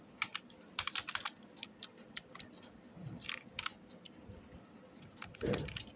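Java code typed on a computer keyboard in crisp, close bursts of clicks with brief pauses between words, and a louder clatter near the end.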